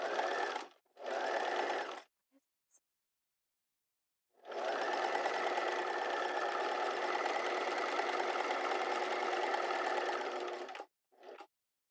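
A sewing machine stitches fabric for a square neck top: two short bursts, a pause, then one long steady run of close, even stitching, ending with a brief final tap of the pedal.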